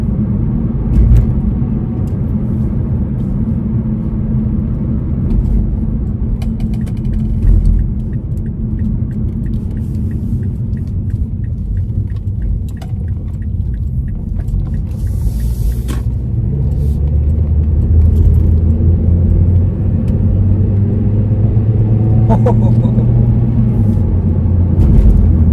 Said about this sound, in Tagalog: Saka mukhang lumakas yung makina niya.